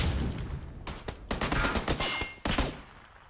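Bursts of automatic gunfire in a squad-based shooter game, a sharp fusillade of closely spaced shots in several loud bursts with brief gaps, close and without talking.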